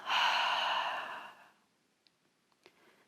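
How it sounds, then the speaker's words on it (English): A single long breath exhaled through the mouth during beginner yoga, a broad airy rush lasting over a second before it fades, followed by a few faint clicks in near silence. "Inhale through the nose, and then exhale through the mouth."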